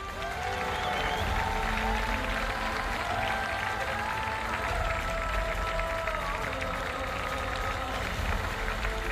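A large crowd applauds a runner at the HOKA UTMB Mont-Blanc ultra-trail closing ceremony. The clapping is a dense, steady outdoor roar that holds through the whole stretch, with faint voices and tones mixed in.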